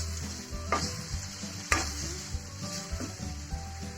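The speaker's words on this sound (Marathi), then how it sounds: "मी सर्वप्रथम जे बटाटे कापले होते ते यामध्ये तेलात चांगल्या प्रकारे तळून घेणार आहे" Cut potatoes frying in hot oil give a continuous close sizzle, with a few sharp clicks and scrapes of stirring for sago khichdi.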